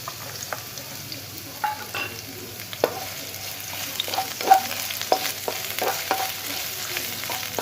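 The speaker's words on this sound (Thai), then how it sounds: "ก็ผัดหอมใหญ่เข้าให้สุกเลยนะครับ" Steady sizzling of onion frying in an oiled pan, with occasional scraping knocks of a utensil stirring it, close up and without talk.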